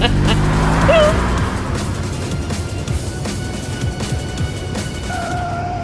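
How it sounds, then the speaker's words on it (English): A car engine roars and revs through a steady, loud drone, with a brief tire squeal and rumbling impacts, like racing through streets in a video game. "The car emerges from the tunnel and races through the streets of the killing zone."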